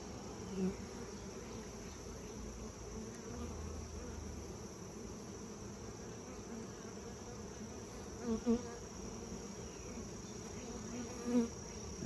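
Honey bees on frames from a mating nuc hum in a steady, dense buzz throughout, close by, with a few faint clicks of frame handling.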